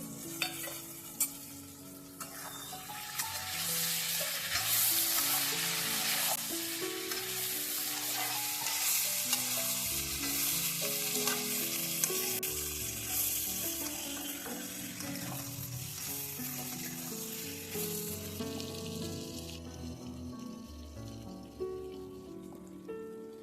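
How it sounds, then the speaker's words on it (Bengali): Ginger garlic paste and slit green chilies sauté in oil with a steady, rain-like sizzle, while a utensil stirs and scrapes the pan in repeated strokes for over twenty seconds. "আদা রসুন দেওয়ার পরে 2 মিনিটের মতো আমি কষিয়ে নিয়েছি"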